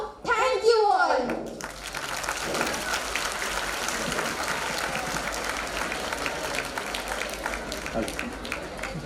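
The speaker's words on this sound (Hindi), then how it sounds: "मैं बोलता इनके कॉन्फिडेंस के लिए जोरदार तालियां" Loud applause from an audience after a business pitch on a Shark Tank-style show, following a brief spoken line and continuing as a dense, steady clapping roar.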